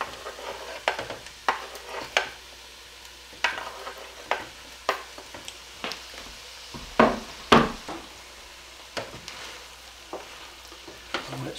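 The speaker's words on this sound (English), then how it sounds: "I'm going to put the rest of this beef stew meat into it" Beef stew meat going into a hot chili pot, a run of repeated scraping stirs and sizzling bursts at an uneven rhythm, close up, with a couple of louder clatters near the middle and no talking.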